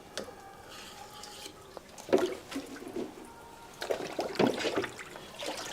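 Several splashes and gurgles as blocks of fresh paneer drop into cold water, with trickling and dripping between the louder plops.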